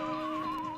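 A horse in the Cuphead video game gives a short, high whinny, a single wavering neigh heard alone and fairly loud.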